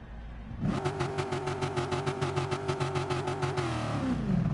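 A video game race car engine suddenly roars to life and holds a high, pulsing rev, buzzing loudly before easing slightly at the end.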